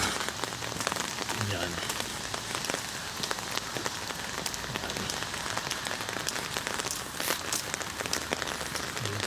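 Heavy morning rain pours steadily in Birkirkara, Malta, a dense, unbroken hiss of drops hitting surfaces nearby, with a voice briefly speaking under the downpour.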